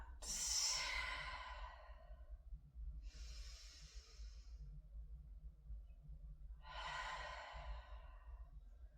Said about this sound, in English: Big breath in, exhale it out.